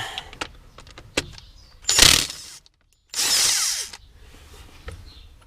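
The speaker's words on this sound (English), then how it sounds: "And get that one last bolt." A power tool spins off the last bolt on the transmission cover of an International Harvester IH 1086 tractor in two loud whirring bursts, each about a second long, with a short silent gap between them and quieter workshop clatter before and after.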